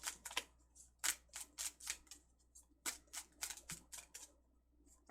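Tarot cards being shuffled up close: a quiet series of crisp, papery riffles and snaps in uneven bursts, with no talking.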